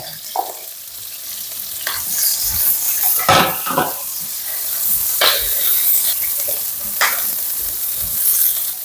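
Garlic and onion sizzling and frying in a hot pan, with a steady hiss broken by bursts of stirring and scraping against the pan.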